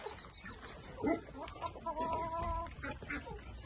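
A rooster clucks and calls in short bursts at a moderate distance, with faint voices and farmyard background noise.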